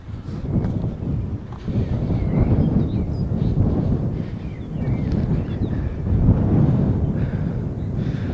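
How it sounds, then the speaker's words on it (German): Gusty wind on a hilltop at Dvigrad, Istria, buffets the microphone in low, rumbling surges that rise and fall, steady and close throughout. "Gerade ein bisschen windig hier oben."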